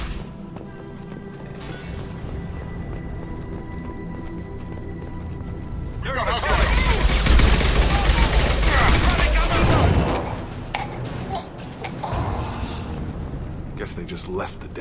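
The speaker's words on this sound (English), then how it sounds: "The Blue Suns and Vorcha are shooting anything that moves." Blue Suns and Vorcha mercenaries exchange gunfire in the video game Mass Effect, a loud, dense burst of rapid shots lasting several seconds that then fades as the fight continues. A voice talks before and around the shooting.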